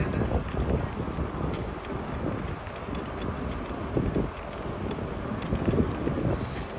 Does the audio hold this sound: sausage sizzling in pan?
no